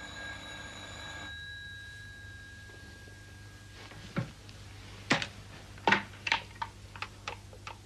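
An old landline telephone bell ringing in an inspector's office in a crime drama, with a steady ringing tone for about a second, then silence followed by several sharp clicks and clatter as the handset is lifted.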